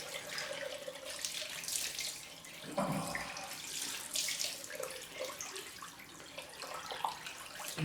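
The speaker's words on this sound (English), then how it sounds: "Time for the cold rinse." Running tap water for a cold rinse after a straight-razor shave, a steady close splashing flow that varies as hands move through the stream, with no talking.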